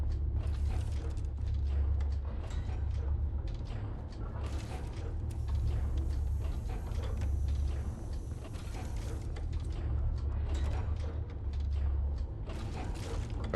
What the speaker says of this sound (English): Okay, that's just an elevator.